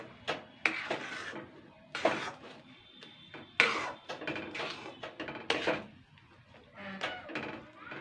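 Boiled potato stirred in a kadai over a low flame, with repeated scraping and knocking strokes of a spatula against the pan in an uneven rhythm, close and moderately quiet, with no talk.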